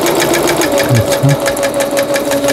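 A Brother sewing machine under repair runs in short stitching bursts, switching between forward and reverse stitching, with a steady mechanical whir and rhythmic needle clatter up close.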